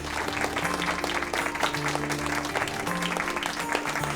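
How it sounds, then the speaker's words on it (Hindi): Audience applause from a gathering in a Turkish drama scene, steady clapping filling the whole moment with a faint tonal hum beneath it. "आज के दूसरे हीरो के लिए तालियां।"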